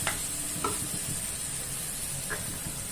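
Chopped tomatoes and green chillies frying in a pan for Punjabi-style sarson ka saag, a continuous close sizzle with occasional scraping stirs over the steady hiss.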